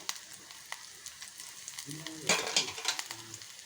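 Dried red chillies sauté in hot oil for a drumstick-leaf chutney, giving a soft, steady crackling sizzle that swells into louder spattering bursts toward the end.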